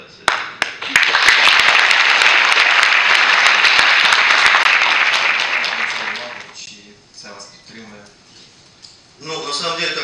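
Football fans meeting coach Serhiy Rebrov break into loud, sustained applause and clapping with some shouting, lasting several seconds before fading, after which someone speaks close by.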